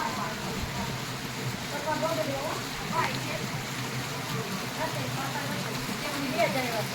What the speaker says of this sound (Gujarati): વરસાદ ચાલુ થઈ ગયો બહુ જ